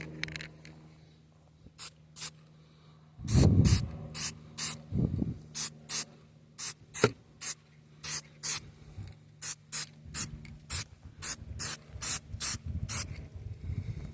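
An aerosol spray paint can sprays onto a VW Passat outdoors, in about twenty short, close hissing bursts with brief pauses between them, plus a couple of louder handling noises near the start.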